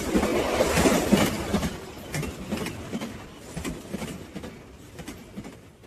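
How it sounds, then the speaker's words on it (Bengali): A train crosses a bridge, a loud rolling rumble with rhythmic clickety-clack of wheels on rail joints that gradually fades as it moves away. "বিরাট শব্দ করে ব্রিজটাকে থরথর করে কাঁপিয়ে ট্রেনটা উল্টো দিকে চলে গেল"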